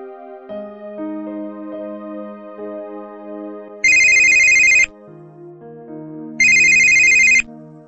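A telephone ringtone calling a superhero headquarters: a melodic electronic tune plays with two loud, buzzing ring bursts partway through, clear and close, with no talking.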